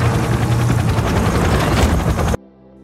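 A military helicopter carrying special forces troops roars loudly and steadily with a rapid rotor chop, close and dense, before cutting off abruptly into near silence.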